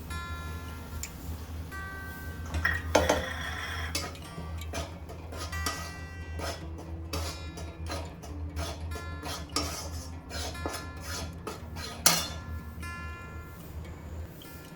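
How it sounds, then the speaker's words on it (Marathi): Maida flour roasts in ghee in a pan, with light, irregular clinks and scrapes of a spoon against the metal, fairly quiet and steady, with no one speaking. "थोडंसं तूप घालून आता आपण मैदा भाजून घेऊ।"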